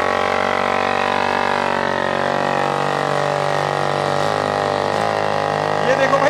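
A homemade jugaad jeep powered by a MAT engine chugs along steadily at close range, its mid-pitched engine drone continuous throughout, with light rattling near the end.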